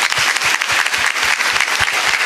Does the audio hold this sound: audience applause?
yes